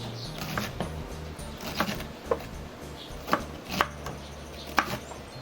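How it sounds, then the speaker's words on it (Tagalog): A kitchen knife chops cabbage and onions for jajangmyeon on a cutting board, giving sharp, irregular knocks about once a second over a low steady hum, with no talking. "I'm gonna also cut this same size ng ating mga onions"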